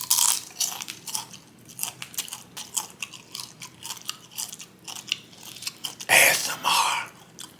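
Chipotle tortilla chips crunched close to a microphone, with repeated sharp bites and steady chewing crackles in an irregular rhythm and a louder burst of crunching near the end.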